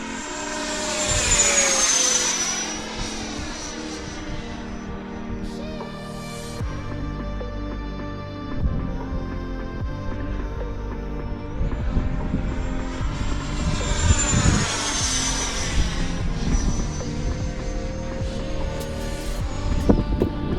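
An aircraft engine spools up to higher throttle through a turn. The steady, loud propeller-and-engine drone swells, and its whine sweeps up and down in pitch as the plane banks past.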